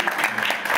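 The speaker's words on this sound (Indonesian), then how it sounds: "Ayo kita berikan tepuk tangan." Brief burst of audience applause at a church gathering, a dense, steady patter of clapping lasting under a second with a voice faintly mixed in.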